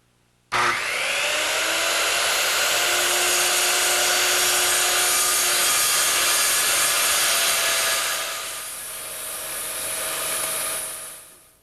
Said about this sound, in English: I'm going to use my circular saw to take out that material